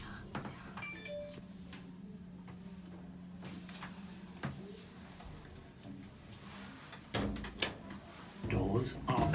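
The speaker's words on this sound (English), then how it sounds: "Doors are open." An elevator at Zara in Dublin arriving with a chime, a low steady hum, then the doors sliding open with a clunk and rattle; faint ambient voices in the background.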